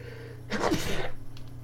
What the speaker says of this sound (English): Oh, fucking sneezing.